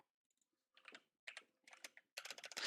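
Typing on a new computer keyboard: faint, irregular bursts of key clicks in short clusters, growing busier toward the end, with no talking.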